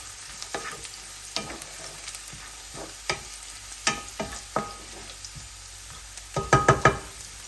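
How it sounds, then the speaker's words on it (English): Garlic frying in a pan, a low steady sizzle punctuated by sharp clacks of a utensil stirring, with a cluster of louder knocks near the end. "You can see the garlic turning nice and brown."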